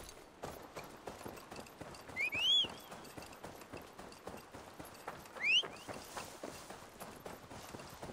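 Horse hooves clip-clop at a steady walking rhythm in Assassin's Creed Valhalla, moderately close and continuous, with two brief high chirping sounds standing out partway through.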